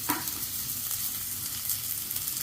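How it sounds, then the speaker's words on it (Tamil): Onions sizzle steadily in hot oil for an egg and potato roast side dish, a close, continuous frying hiss with no talking. "இப்போ இந்த டிஷ்ஷுக்கு தேவையான எண்ணெய் ஊற்றிக்கிறோம் வெங்காயத்தை போட்டுக்கிறோம்"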